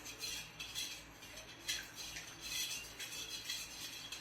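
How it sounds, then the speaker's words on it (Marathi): Sugar being stirred in a pan until it melts, a steady scraping and clinking of a utensil against metal continuing throughout at close range with no voices. "ही साखर सगळी वितळूपर्यंत आपल्याला हलवत राहायचं आहे"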